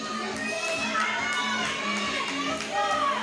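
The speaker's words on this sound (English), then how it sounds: "eClipse team lined up over there ready to cheer on Reese" A team of young supporters cheers on a powerlifter at a meet, loud and close, with sustained high-pitched shouting and crowd noise that never lets up.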